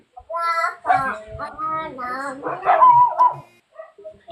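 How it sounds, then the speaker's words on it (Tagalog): Several dogs bark and yip close by in quick overlapping bursts, some calls stretching into whiny, high-pitched yelps. "Ang dami kong alagang aso dito."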